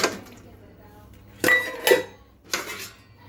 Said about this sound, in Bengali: বাসন কটা মেজে নিয়ে আসলাম